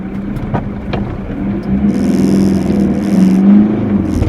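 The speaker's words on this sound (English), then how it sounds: "You can really hear the engine bellowing as you're trying to move away." A car engine drones and swells as the vehicle pulls away, a steady low roar rising in pitch, loud and close, with no talking.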